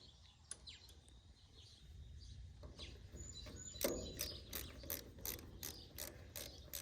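A ratchet with a Craftsman deep well socket clicks in quick bursts while backing bolts out of a 1951 Ford 8N tractor during a governor replacement, close and fairly loud, with a low steady background hum.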